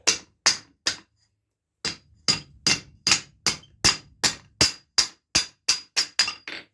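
Hammer blows ring sharply against metal, three quick strikes, a pause, then a steady run of about a dozen evenly spaced clangs.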